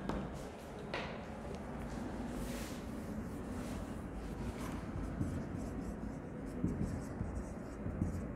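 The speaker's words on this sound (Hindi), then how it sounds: "इसको हटा के लिखते हैं" A pen scratches steadily across paper during an accounting lesson, quiet continuous writing strokes close by with faint background noise.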